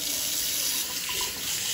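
Cold water pours steadily from a repaired Moen Eva bathroom faucet into the sink, a continuous splashing rush heard close and even, with no one speaking.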